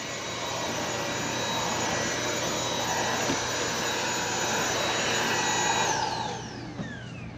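Dibea D008 Pro cordless vacuum cleaner sucking up dirt with an attachment tool, a loud steady close whine and rushing airflow that winds down near the end, with no talking.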